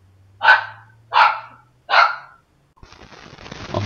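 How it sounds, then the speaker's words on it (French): A small dog barks three times in an even rhythm, each bark close and sharp, followed by a soft rustling, scraping noise. "le chien aboie déjà"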